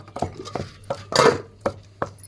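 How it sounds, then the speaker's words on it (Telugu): Tamarind pounded for a tomato chutney in a home kitchen, alongside green chillies, coriander seeds, salt, cumin and garlic: about six sharp, evenly spaced thuds close by, one heavier grinding burst in the middle, with no talking. "ఇదిగోండి ఫస్ట్ చింతపండు దంచుతుందండి"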